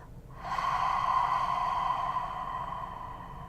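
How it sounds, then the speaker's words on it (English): Slow guided breathing, in through the nose and out through the mouth: a single long, airy breath with a soft whistling hiss that swells quickly, holds for a couple of seconds and fades gently, close and quiet. "In through your nose and out through your mouth."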